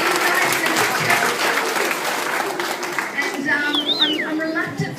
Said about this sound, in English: if we can just give them a really big clap